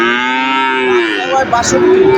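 A calf at a local cattle market gives one long, loud, close moo that rises and wavers before trailing into a second drawn-out call, with no voices over it.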